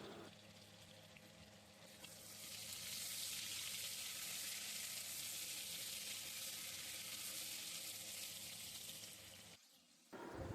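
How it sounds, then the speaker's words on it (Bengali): Potatoes with salt and turmeric frying in hot oil, a dense continuous sizzle that swells and holds steady close by, then cuts off sharply near the end. "তো চলো আলুতে দিয়ে দিচ্ছি লবণ আর হলুদ, এই দুটো দিয়ে আমি আলুগুলো ভালো করে লাল লাল করে ভেজে নেব"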